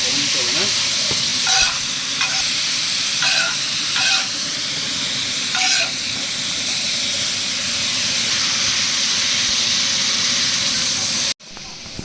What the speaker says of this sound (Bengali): সবজিগুলা ভেজে নিচ্ছি